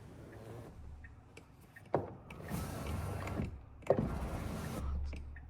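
The electric seat motor of a 2026 Tesla Model Y Juniper whirs quietly as the seatback reclines, with two soft clicks marking the start and stop of the adjustment.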